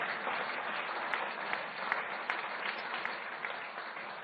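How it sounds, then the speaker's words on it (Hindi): A crowd applauds at a Viksit Bharat Dialogue public event in Delhi. Steady, dense clapping carries on throughout at moderate volume, with scattered sharper claps and no talk. "तो ताली बजानी तो जोर से बजाओ, जोर से बजाओ।"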